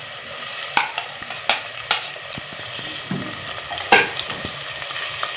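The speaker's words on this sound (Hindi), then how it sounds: "चॉप किए हुए टमाटर डाल देते हैं।" Chopped tomatoes sizzle in a pan with browning onions for a daal masoor dish, a steady frying hiss broken by occasional clinks and scrapes of stirring, close and without talk.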